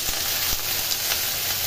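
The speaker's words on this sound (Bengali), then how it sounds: "এদিকে হবে চিচিঙ্গে দিয়ে নারকেল দিয়ে ভাজা" Snake gourd frying with coconut and chillies sizzles in a pan, a steady bright crackle close to the listener, with a couple of soft knocks from stirring.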